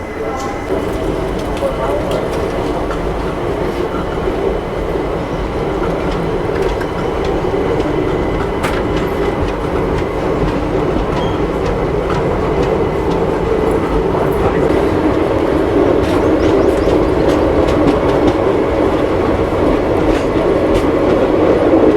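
Bikaner Intercity Express rolling out of Ratangarh, recorded from inside a 3AC coach. A loud, continuous rumble of wheels on track carries faint clickety-clack beats throughout, with no break in the noise.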